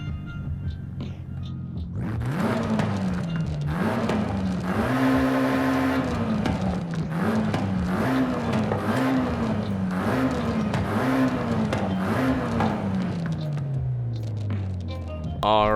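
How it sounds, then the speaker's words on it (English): In Forza Horizon 5, an A-class Mitsubishi Eclipse with a touge tune revs repeatedly, its engine note climbing and dropping in rhythmic waves before a long fall, loud and close throughout. "just so you guys can hear the engine of this damn thing, bro, it sounds absolutely amazing as well"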